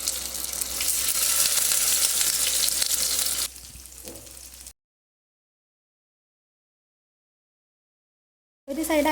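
Fish frying in oil in a pan gives a loud, steady sizzle for about three seconds, then drops to a quieter crackle before a long silence, with a brief sizzling burst at the end.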